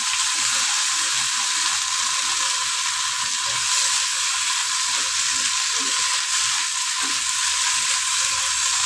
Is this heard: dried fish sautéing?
yes